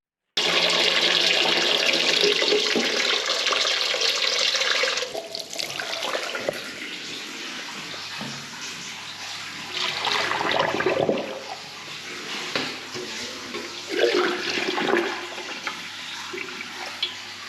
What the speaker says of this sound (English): So let's get some water down there and see how bad they are.